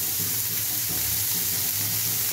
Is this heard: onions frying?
yes